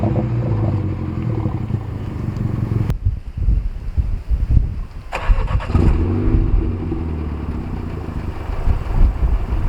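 MINI John Cooper Works F56 exhaust in sport mode, a loud close rumbling idle broken by sharp blips and revs with crackling bursts, steady engine drone throughout.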